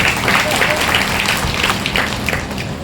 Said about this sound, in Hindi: एक बार सब बच्चे के जोरदार ताली बजा दी।